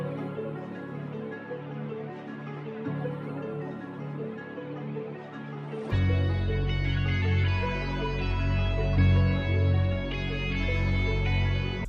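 An FL Studio beat intro opens with a bare melodic sample for about six seconds, then the hook hits with full drums and heavy bass, louder and denser, with no talking.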